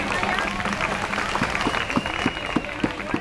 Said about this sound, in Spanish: Un aplauso para Marta Martínez